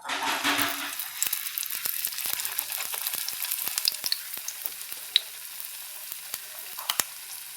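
Battered eggplant fritters sizzling in hot oil, a loud bubbling burst at first that settles into a steady hiss sprinkled with sharp crackles and pops, heard close with nobody talking.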